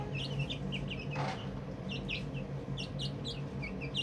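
Chickens clucking and chirping in a busy coop, many short overlapping calls close by and steady throughout, with a low background hum underneath.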